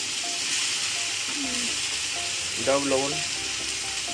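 Okra (bhindi) frying in a pan, giving a steady broadband sizzle throughout while a voice talks over it briefly.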